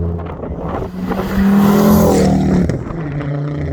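Mk2 Ford Focus RS engine revving up and accelerating hard on a cold, damp road on Michelin PS4 tyres, a loud rising engine note with steady roar and rumble close up, no talking.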